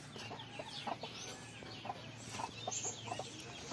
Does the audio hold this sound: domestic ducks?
yes